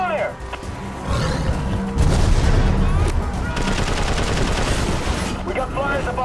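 Rapid bursts of automatic gunfire and booming impacts fill a combat scene in the video game Prototype 2, dense and loud, with voices shouting over the fusillade.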